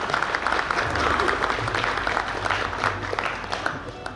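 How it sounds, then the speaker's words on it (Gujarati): Audience applause at a lecture-series event in a medical hall, a steady, fairly loud patter of many hands clapping throughout, with a faint murmur of voices underneath. "આપણે તાળીઓથી અભિવાદન કરશું."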